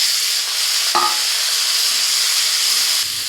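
Boiled potatoes, carrots and peas with garlic and ginger fry in hot oil, a steady broad sizzle running throughout with a brief stirring clatter near the start and a soft thump at the end.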